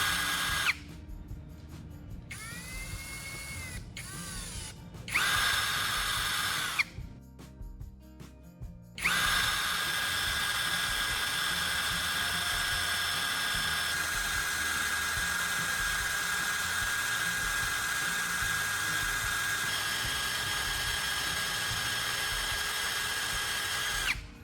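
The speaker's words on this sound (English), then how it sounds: "simply grind one end to a point." The carbon core from a battery is ground to a point, giving a high, steady whining grind that cuts out briefly a few times early on, then runs continuously close by.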